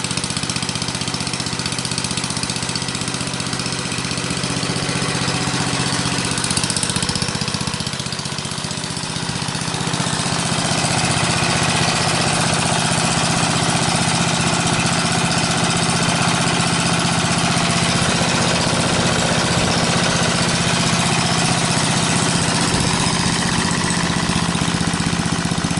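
A 63-year-old Briggs and Stratton engine drives an RCA generator, running steadily with choke fully off, a loud continuous near chugging hum with a faint dip midway, no talking.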